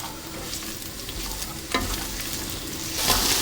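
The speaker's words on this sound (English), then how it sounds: "The onions are turning translucent and they've softened quite a bit" Softening onions frying in a pan, heard as a loud, continuous sizzle with scraping stirs at intervals and a louder burst near the end, no talk.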